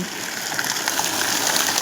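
A well water pump motor runs at a farm while water gushes out in a loud, dense, continuous rush. No voices break through it.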